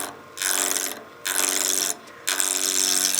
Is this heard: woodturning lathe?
yes